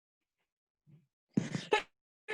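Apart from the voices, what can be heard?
sneeze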